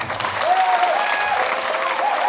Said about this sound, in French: je voudrais vous demander de les applaudir